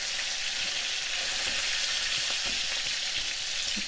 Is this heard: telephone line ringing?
no